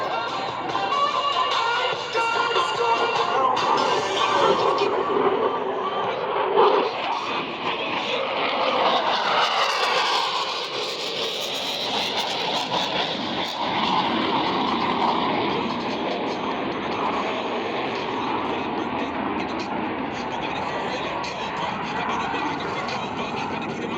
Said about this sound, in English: watch as both pilots sustain 6 times the force of gravity to cross their aircraft over show